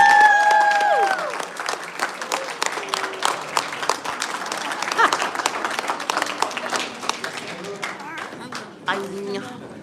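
An audience applauds an Irish quartet after a concert, with a burst of clapping that thins into scattered claps while a closing musical chord fades at the start and voices chatter nearby.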